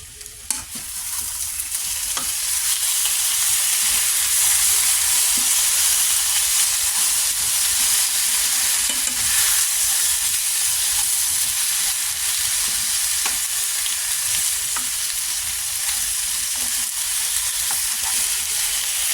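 Sliced potatoes stir and fry in butter in a pan for scalloped potatoes, giving a steady, loud sizzle with soft scraping stirs throughout and no talking.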